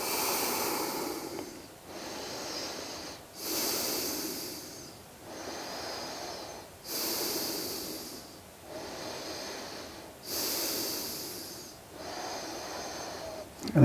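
Slow, deep breaths during a yoga stretch, with four or five long, close airy inhale-exhale cycles in an even rhythm, each ending in a hissy, wheezy exhale.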